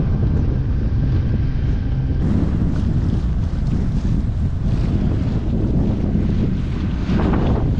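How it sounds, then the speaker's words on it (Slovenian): Strong wind roars continuously across the microphone aboard a sailboat near Phuket, Thailand, a dense, loud rush with water sounds beneath it. "Piha, res piha."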